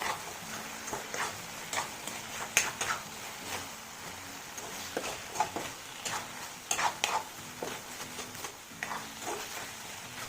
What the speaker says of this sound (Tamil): இது எல்லாத்தையும் சேர்த்து நான் நல்லா கிளறி விட்டுக்கிறேன்